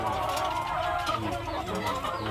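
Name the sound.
RTL chickens clucking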